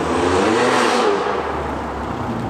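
BMW M2 with a modified exhaust and removed downpipe parts revving, giving a loud, close, steady engine roar that holds for about a second and then eases slightly as it settles.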